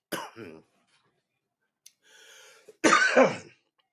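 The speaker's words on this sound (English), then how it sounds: "excuse the coughing" A person coughs twice with a pause between them, the second cough harsher and louder, with a bit of throat noise in the gap.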